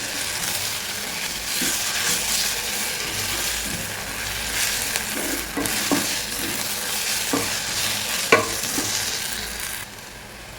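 Ginger garlic paste frying with onions in a pan for an egg ghee roast, a steady close sizzle with occasional stirring clicks and scrapes of a spoon against the pan, no voices.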